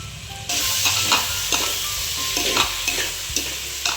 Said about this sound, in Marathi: सर्व गोष्टी फ्राय झाल्या पाहिजे.